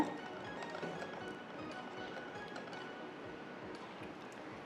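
Cake pop batter with vanilla essence, baking soda and a pinch of salt is beaten in a bowl, giving faint, quick, irregular clinks and taps that continue steadily and quietly.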